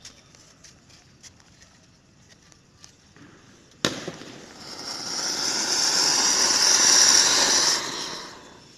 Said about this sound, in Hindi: पहले हम सिंपल वाले अनार को चला के देखते हैं कैसा चलता है।